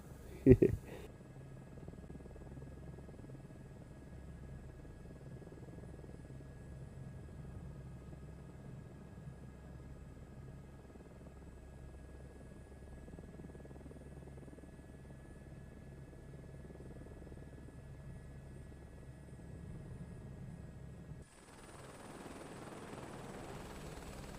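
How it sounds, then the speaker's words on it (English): A helicopter in Microsoft Flight Simulator 2024 flying over the Humber Bridge area: a steady rotor drone and hum runs throughout, with a sharp knock at the start and a brief change in tone near the end. "I thought this would be a great shot to land the helicopter."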